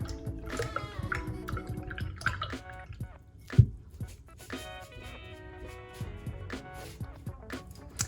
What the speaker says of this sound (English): I'm gonna take that brush, I'm gonna wash it off, I'm gonna put it away.